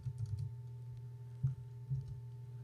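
Quiet typing on a computer keyboard, a quick run of clicks followed by a couple of isolated taps, heard close over a faint steady hum.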